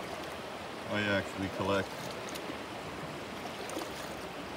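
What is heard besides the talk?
creek water flowing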